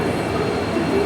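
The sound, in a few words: train at Hubli railway station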